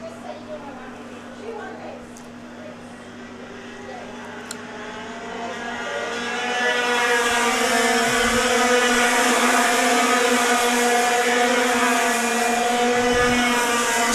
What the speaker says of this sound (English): water-cooled 125cc engines as they go down the back straightaway